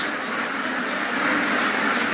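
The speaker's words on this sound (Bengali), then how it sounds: "দেখেন দেশীয় হাঁস" Native ducks kept for eggs on a farm in Qatar, their quacking blended into a dense, continuous chorus that holds steady for the whole stretch.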